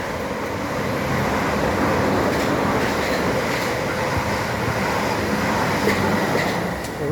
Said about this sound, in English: I think that could be my train to Surbiton.